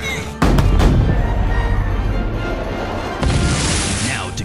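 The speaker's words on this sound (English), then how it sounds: "Prepare all cannons, now! Fire!" Pirate ships' cannons fire in an animated trailer for Leo Da Vinci's treasure hunt adventure: two heavy, close booms, one near the start and one about three seconds later, each trailing into a long rumbling roar.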